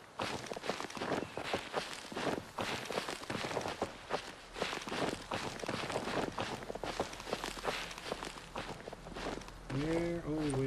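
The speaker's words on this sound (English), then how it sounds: "your own footsteps sound like they're next to you" The player's own footsteps in the horror video game Don't Scream, a quick, steady run of close, crunching steps that continues throughout, with a brief tonal sound near the end.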